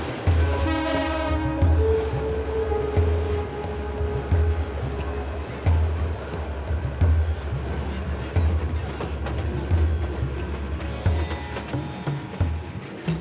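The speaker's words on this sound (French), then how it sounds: "balayés de courants d'air, ces trains datent de l'époque coloniale anglaise" Old colonial-era passenger train in Bangladesh, with a loud rumbling run and repeated horn or whistle blasts over steady rolling noise.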